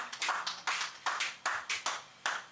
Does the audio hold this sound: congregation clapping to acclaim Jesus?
yes